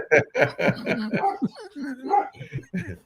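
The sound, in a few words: dog barking in the background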